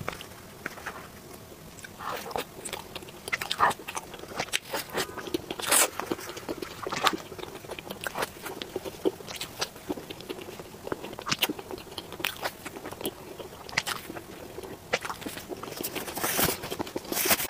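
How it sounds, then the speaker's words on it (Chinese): Someone bites into and chews a frozen snow puff dessert, and the crisp crunches and chomps repeat steadily and close-up for the whole stretch. "我想把这个雪芙吃了，因为它是冰着来的。"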